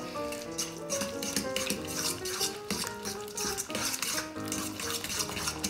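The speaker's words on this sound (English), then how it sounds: "Breaking up the eggs, mixing everything in." Ricotta, parmesan and eggs stirred together in a bowl, a steady scraping and clinking of utensil against the dish with a music bed running underneath throughout.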